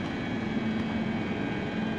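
A London Underground Northern Line train running near Hampstead toward Edgware, a steady, loud low rumble with a sustained hum and no speech.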